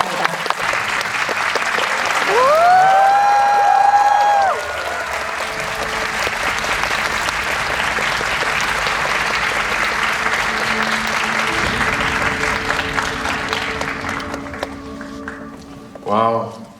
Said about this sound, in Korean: 큰 박수와 환호로 맞아주시기 바랍니다.